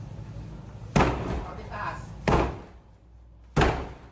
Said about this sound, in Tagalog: Nakadak ang pinto ng bahay, kaya gumamit sila ng battering ram.